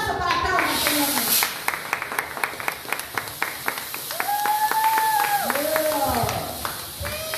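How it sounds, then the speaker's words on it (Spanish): At a wrestling press conference, a small audience claps in scattered, individual hand claps with no steady rhythm while someone talks over a microphone. "Fuerte el aplauso para Tromba, señores."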